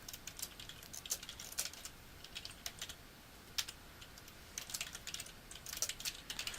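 Steady typing on a computer keyboard, a quick patter of light key clicks in uneven bursts, close-up and faint, with no one speaking.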